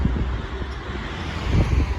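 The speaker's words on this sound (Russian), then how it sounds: "такой ветер стоит." Steady wind roars and rustles through trees, with gusting low rumble buffeting the microphone and a broad hiss throughout.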